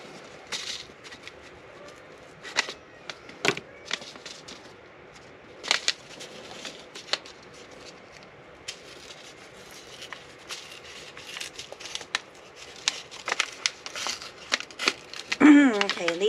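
A paper packet of onion seeds is ripped open in a hut during seeding, with close crackling paper tears and rustles spread across the clip under intermittent talking.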